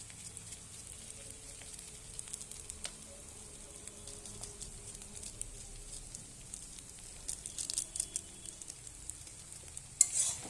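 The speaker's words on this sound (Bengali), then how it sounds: "দিয়ে ভালোভাবে নেড়ে দেবো" Chowmein tossed with chowmein masala in a pan gives a soft, faint sizzle with light scraping strokes that pick up near the end, and no one speaks.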